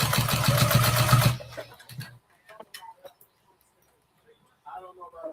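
A Juki sewing machine stitches fabric in a loud, fast, continuous burst lasting just over a second, then stops, leaving quiet handling sounds and a voice talking.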